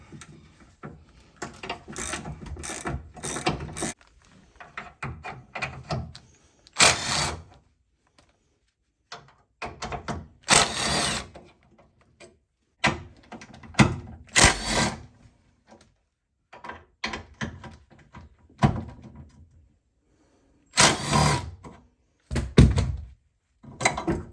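Tools work on car sway bar bolts in a barn: sharp metallic clanks, ratchet clicks and knocks come in irregular bursts separated by quiet gaps, close and fairly loud.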